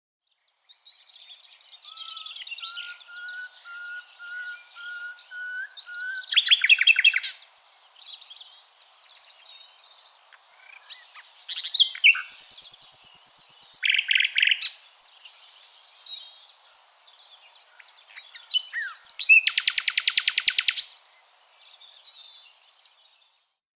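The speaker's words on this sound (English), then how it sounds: "Could you tell us a little bit about the wonderful complexity of the nightingale songs? We'll also play a short clip for our listeners." A common nightingale's recorded song, a long varied run of rich whistles, rapid repeated notes and buzzy trills, bright and fairly close with short pauses between phrases and no voices.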